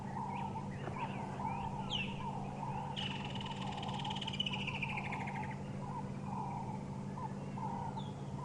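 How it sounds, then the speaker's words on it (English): Outdoor woodland kingfisher song with several descending trilling calls and chirps at moderate distance over a steady low background hum. "Got quite a few woodlands kingfishers calling."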